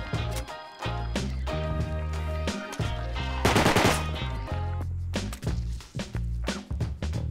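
Bursts of AK assault rifle fire in the game Rust, sharp rapid shots mixed with a heavy, tonal game soundtrack, including one loud dense volley and several scattered single cracks near the end.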